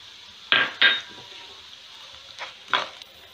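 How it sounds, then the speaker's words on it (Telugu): Tempering spices tossed into hot oil for a bitter gourd fry: a few short bursts of crackling sizzle and clinks of the spoon against the pan, separated by quieter gaps. "ఇప్పుడు పోపు దినుసులు యాడ్ చేసుకుంటున్నాను."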